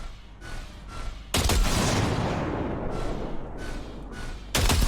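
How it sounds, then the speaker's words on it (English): A short sustained burst of gunfire into a pile of junk in Cyberpunk 2077, loud and dense for about three seconds, framed by quieter ambience and another burst starting at the end. "See that pile of junk? Fire a short burst into it."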